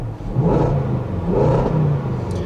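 A 2015 Range Rover Sport's 5-liter V8 revving, two strong swelling rev surges with a throaty rumble rising and falling, close and loud with no talking.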